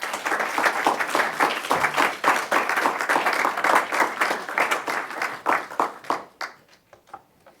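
An audience at a talk applauds to welcome the speaker, a dense, steady burst of many hands clapping close by that thins out and fades over the last couple of seconds.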